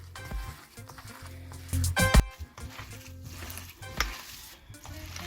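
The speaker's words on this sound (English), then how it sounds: "With our hands in it and just mix, making sure we're blending all the seasoning" Hands squishing and mixing seasoned ground meat for sticky BBQ meatballs, wet squelching and slapping with a sharp burst near the middle and a softer one later, close up with no talk.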